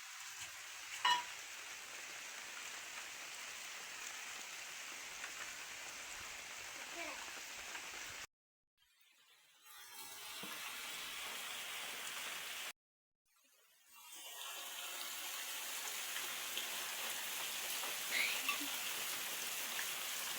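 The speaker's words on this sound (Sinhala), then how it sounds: "දැන් නම් ටිකක් වැස්ස වැඩි වෙලා තියෙන්නේ මෙහෙට." Heavy rain pours steadily over a village, a dense hiss with frogs croaking faintly in the background, broken twice by brief silent gaps.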